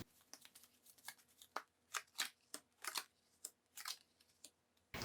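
Tarot cards shuffled and drawn by hand, a run of crisp papery riffles and flicks in irregular bursts, close and fairly quiet with no talking.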